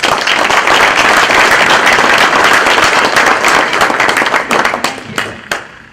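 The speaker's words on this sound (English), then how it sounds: "please give them a great round of applause" Loud, dense applause from an annual meeting audience for the board of directors, sustained clapping that thins out and tapers to scattered claps near the end.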